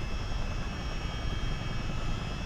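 Dense, even roar of a CH-47 Chinook twin-rotor helicopter in flight in Microsoft Flight Simulator, a close, constant rumbling wash with low-end rotor churn and no talk.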